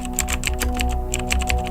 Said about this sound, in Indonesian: tiba-tiba dengar ketikan di sebelah